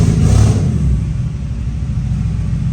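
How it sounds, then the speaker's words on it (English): A turbocharged BMW E46 engine revs loud and close, its deep rumble surging at the start before settling into a steady, throaty idle-like drone, with no voices. "That's revving much better though."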